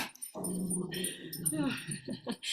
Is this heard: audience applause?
no